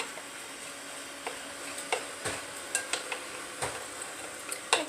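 A spoon scrapes and clinks against a pan while an egg is mixed into food, with irregular knocks and a soft sizzle underneath, close and moderately loud.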